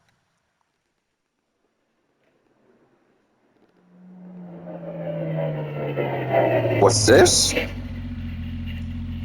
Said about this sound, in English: Suddenly, the sound of a car engine broke the silence.